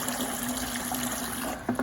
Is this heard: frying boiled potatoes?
no